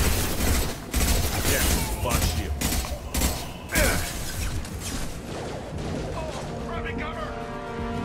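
Bursts of gunfire in the sci-fi shooter Mass Effect Legendary Edition, dense volleys and sharp cracks through the first half settling into a steadier mechanical din with game sound over it.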